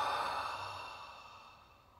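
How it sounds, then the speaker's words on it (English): A single slow exhale through an open mouth during a meditation breathing exercise, close and breathy, fading gradually over about two seconds with no talking. "Open the mouth, exhale."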